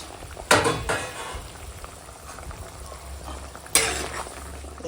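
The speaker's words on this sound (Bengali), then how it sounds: "এখন ঝোল ফুটছে আর এখন দিয়ে দেবো এই যে ভেজে রাখা বাটা মাছ" Bata fish curry with mustard and green chilli paste boiling in a pan: a steady low bubbling simmer close by, broken by two brief louder scraping or stirring bursts, without any talking.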